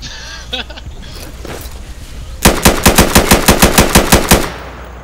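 Automatic gunfire in the video game Insurgency during a firefight rings out as a loud rapid burst of a dozen or so evenly spaced shots, preceded by quieter game sounds and a few distant clicks.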